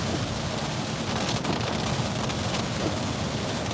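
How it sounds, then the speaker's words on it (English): Steady rain falls outdoors as a continuous, even hiss of drops on surfaces, fairly loud and close, with a faint low rumble underneath and no voices. "Man, it's raining."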